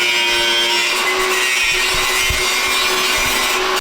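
Steady, loud power-tool grinding and sawing on metal as someone builds metal artwork, with occasional scraping shifts and knocks, continuous and close throughout.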